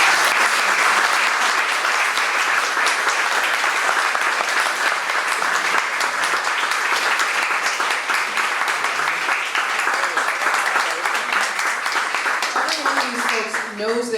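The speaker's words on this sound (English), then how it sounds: "If we could please give these wonderful folks a big round of applause." An audience at a community session on water quality applauds, a dense, sustained round of clapping filling the whole span and fading slightly near the end.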